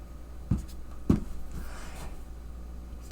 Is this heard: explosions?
no